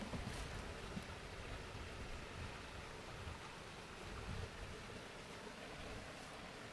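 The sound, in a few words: flowing stream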